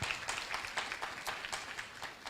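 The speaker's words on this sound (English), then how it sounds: "Just a round of applause for the journalists in the house." Applause from the audience at a media awards ceremony honouring journalists, scattered claps standing out over a soft, steady bed of clapping that runs the whole moment.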